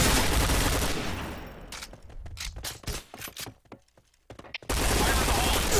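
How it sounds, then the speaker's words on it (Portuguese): A P90 fires in the video game Point Blank, a Desert Camp deathmatch. The rapid automatic bursts are loud and close, with a run of separate cracking shots in the middle, and a voice talks over parts of it. "Olha a quantidade de tiro que tem a P90, mano."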